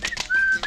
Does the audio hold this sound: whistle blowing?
yes